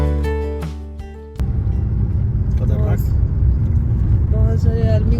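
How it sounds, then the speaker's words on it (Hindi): Army convoy trucks and ambulances rumbling past on a road near Pangong Lake in Ladakh, a heavy continuous low engine drone starting abruptly after a brief musical intro, with someone talking over the passing vehicles. "बहुत सारे आर्मी का गाड़ी जा रहे हैं लाइन से, ट्रैफिक है फुल"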